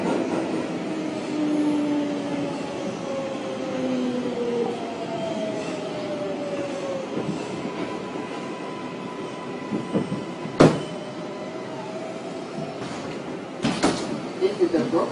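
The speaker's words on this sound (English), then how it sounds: "This is a Brooklyn Bridgebound 6 train." A New York subway 6 train rumbles along with a steady low drone and shifting squeals from the wheels, then sharp clunks and rattles near the end.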